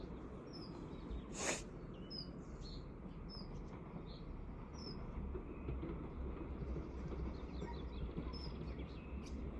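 A train passes far off at Greenisland, a faint low rumble that swells slightly over the quiet outdoor air, while birds chirp nearby and a brief bright clank sounds early on.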